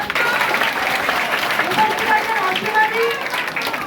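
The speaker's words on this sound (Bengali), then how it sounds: "আমি কল্যাণদার জন্য একটা জোরে হাততালি" A political gathering crowd applauds loudly for Kalyan, a dense, continuous wash of many hands clapping with a few voices mixed in, sustained at full strength throughout.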